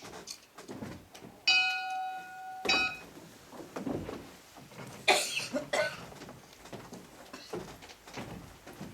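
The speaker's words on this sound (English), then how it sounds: "It is time for the dismissal bell." A school dismissal bell rings with a bright, sustained chime lasting about a second in a classroom scene, followed by coughs and rustling room noise.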